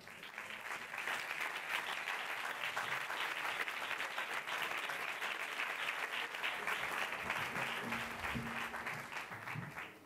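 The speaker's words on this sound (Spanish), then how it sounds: "Por favor, un fuerte aplauso para ella." Sustained applause from a large audience at a film festival closing gala, a dense, even rush of clapping that swells after a quiet start and holds steady.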